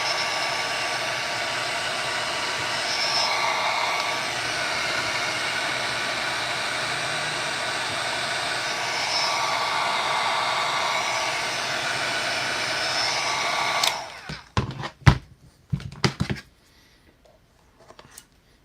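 A heat gun blows with a steady, loud whooshing roar for about fourteen seconds, then cuts off, leaving a few sharp clicks and snips.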